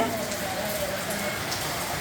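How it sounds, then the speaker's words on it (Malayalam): Rain pours outside, a dense, even patter and hiss that holds steady and fills the short stretch with no voices over it. "അപ്പുവ പുറത്ത് പോവാൻ പറ്റണില്ലേ മഴ പെയ്തിട്ട്"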